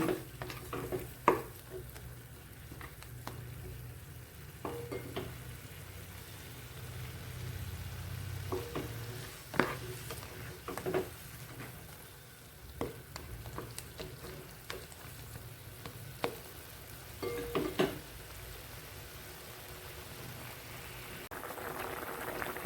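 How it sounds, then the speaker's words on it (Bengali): Coconut milk bubbling on a high flame for a Bengali prawn malai curry, a low steady simmering hiss broken by repeated spoon clinks and stirring scrapes against the pan, fairly quiet and without talk. "দিয়ে হাই ফ্লেমে ভালো করে ফুটিয়ে নিতে হবে।"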